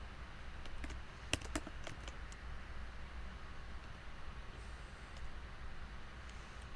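Code being typed on a computer keyboard for a React web app: a quick cluster of crisp, close keystrokes early on, then a few scattered taps over a low, steady background hum, with no voices.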